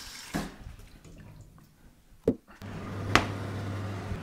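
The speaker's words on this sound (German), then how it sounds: "Jetzt füllen wir einmal Wasser auf und stellen sie dann auf den Herd." Tap water running into a pot of small potatoes in a home kitchen, a soft rushing stream beginning about halfway through after a few clinks and knocks.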